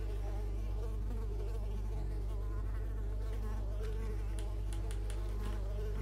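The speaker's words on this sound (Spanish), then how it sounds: "Fuera, moscas." Flies buzz around the player character in the video game Unravel, a close, continuous droning hum with brief sharper clicks near the end, with no talk over it.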